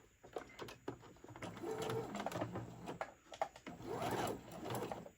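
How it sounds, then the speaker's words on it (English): A sewing machine stitching the bottom seam of a Santa tote bag, giving fast rattling bursts of stitching with short pauses between them and a soft cooing bird sound faintly in the background. "I'm going to start sewing."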